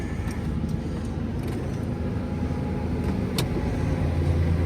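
Sideloader truck engine running steadily after the ignition is turned, a loud continuous low rumble with no talking.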